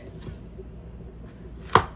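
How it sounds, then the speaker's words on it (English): A knife slices a jalapeno into rounds on a cutting board, with a faint tap early on and one sharp, close chop near the end in a quiet kitchen. "For this jalapeno, I'm just gonna cut it into slices, little rounds."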